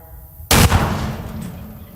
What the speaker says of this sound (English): I'm gonna hit it with the 50 cal here.